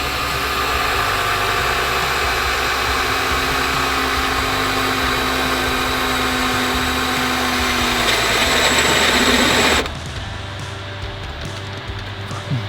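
A cordless power drill boring a pilot hole for a turbo oil drain tap, loud and steady with a high whine for about ten seconds before cutting off, leaving a quieter background hum.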